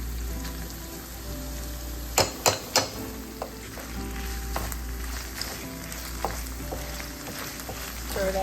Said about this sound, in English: Stir that to get it all mixed in